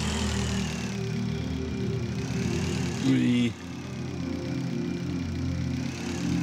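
Motorbike engine in the video game Breathedge, a steady low idling drone running through the whole stretch with a brief pitch rise midway, while someone speaks Spanish over it.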